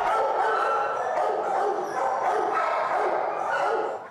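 Many dogs at a crowded Indianapolis animal shelter, a dense chorus of overlapping barks, yips and howls echoing continuously through the kennel building, loud and close.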